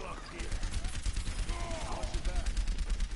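Rapid gunfire in Overwatch, a fast rattling stream of shots under a busy game mix, with someone talking over the action.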